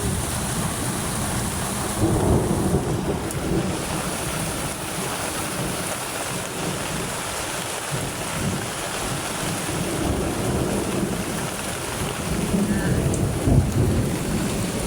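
Heavy rain roars continuously with a deep rumbling undertone, swelling slightly at moments; no one speaks.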